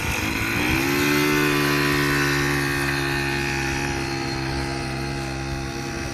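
A 1978 Honda Express moped's small engine runs steadily on a ride, a loud, close buzzing drone that rises slightly in pitch, then holds and eases off.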